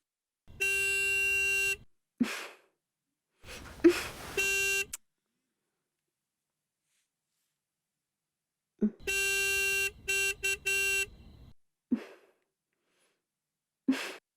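A car horn blares outside in long sustained honks, two bursts then a broken series of honks, with a short voice sound between.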